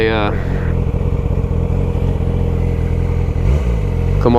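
A Yamaha R6 sport motorcycle engine runs loud and close in first gear while slowing down, a steady buzzing drone with slight surges; someone speaks briefly at the start and end.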